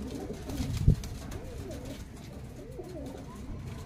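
Pigeons, including a deep-eyed white fulsira, coo in soft repeated throaty rolls, with one sharp knock near the start and low background noise throughout.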